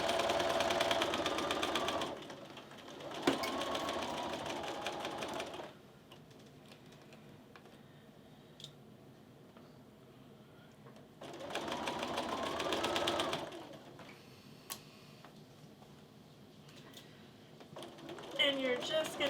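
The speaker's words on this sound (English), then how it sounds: "And you're just going to keep sewing," Sewing machine chain piecing a stack of quilt units, its motor whirring in two loud stretches of steady stitching separated by quieter pauses, with faint handling sounds in between.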